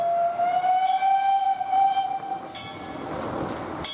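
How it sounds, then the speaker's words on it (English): A steam train departs along the Hornbæk private railway near Helsingør, opening with a long steady whistle, then hissing steam and rolling rail noise, fairly close and loud. "Here we see the steam train depart down the private railway"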